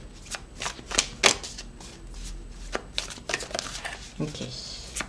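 A deck of tarot cards shuffled in quick riffling bursts and soft slaps, close and fairly quiet, with a voice talking intermittently throughout.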